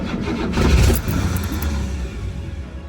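An abandoned 1969 Cadillac engine cranks and catches, giving a loud burst of rough firing that surges briefly, then sags into an uneven, sputtering run as it struggles to keep going.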